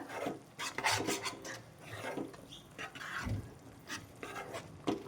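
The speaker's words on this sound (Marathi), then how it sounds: "छान आहे ना मिक्स करते बघा बेसन पण छान भाजलं गेलं आणि हा मसाला पण छान भाजून घेते एकदा" Gram flour and chana masala spice being stirred and roasted in a pan, giving a steady dry scraping and rubbing with soft sizzle, close and continuous, no talking.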